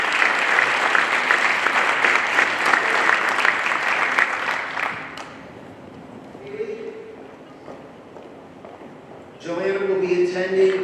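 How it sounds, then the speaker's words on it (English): An audience at a high school class of 2021 honors luncheon gives a long round of steady applause that fades out midway, followed by quiet and then a speaker's voice. "One more round of applause for our"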